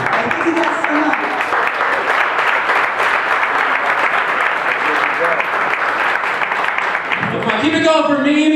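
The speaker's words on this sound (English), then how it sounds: "Give her a nice big round of applause." Audience applauding at a stand-up comedy club show, dense steady clapping filling the room, with a voice speaking over the last moments.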